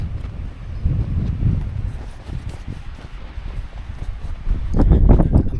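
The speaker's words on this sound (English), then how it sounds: "It's very grey, it's very windy" Gusty wind rumbles across the microphone in low, uneven bursts on Fairlie Moor in Scotland, swelling louder toward the end, with faint rustling in the background.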